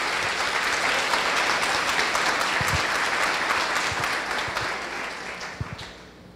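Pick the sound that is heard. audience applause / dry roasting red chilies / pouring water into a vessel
audience applause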